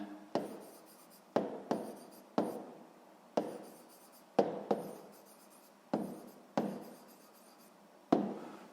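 Pen strokes writing an answer down on paper during a sixth-grade maths exercise, a series of distinct scratchy strokes in short, evenly spaced bursts, close and quiet with no talk.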